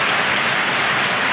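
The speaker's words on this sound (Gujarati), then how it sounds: "અનરાધાર વરસાદ છે" Heavy downpour of monsoon rain in Gujarat during the Ashadh month, a dense, steady hiss of falling water that stays loud and unbroken throughout with no voices.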